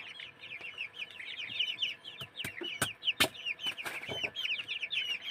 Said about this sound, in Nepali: यो कुखुराहरू पनि लाउँछन् हो